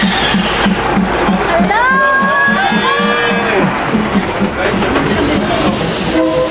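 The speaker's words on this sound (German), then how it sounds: "Also ihr habt ja gerade gesehen, wie der Zug hier einfach vorbeigefahren ist." A train rolls loudly and very close through a Bangkok street market, wheels clacking in a steady rhythm while a horn-like tone rises briefly over it, with voices faintly mixed in.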